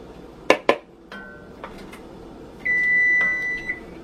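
An oven in a home kitchen finishing a clam dish: a couple of sharp clinks of dishes, a few soft knocks, then a steady electronic beep held for about a second, close and clear.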